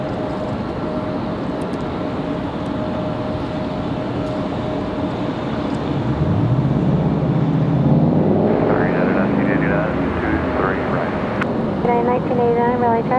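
An American Airlines jet arriving from Charlotte and landing at Raleigh-Durham airport, a steady loud engine roar that swells midway, with radio voices talking over it.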